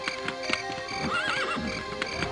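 A horse in the video game Daggerfall trots with a steady clip-clop of hooves and gives a clear neigh partway through, set against a constant background hum.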